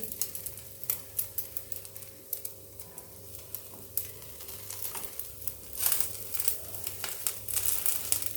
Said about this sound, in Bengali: আবার কড়াইতে তেল গরম করে, সাদা তেল গরম করে আমি মাঝখান থেকে কেটে নেওয়া বান ব্রেডগুলো দিয়ে দিচ্ছি